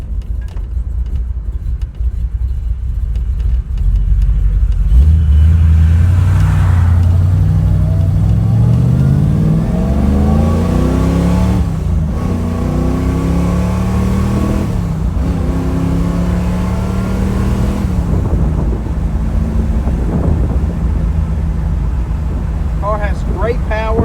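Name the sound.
Camaro V8 engine accelerating hard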